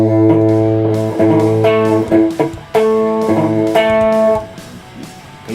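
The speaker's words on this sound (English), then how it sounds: "you need to make sure that they all sound correctly and there is no dampened sound" A rock guitar power chord strummed several times with some strings dampened, the ringing notes cut short and mixed with dull, muted thuds between the clearer attacks.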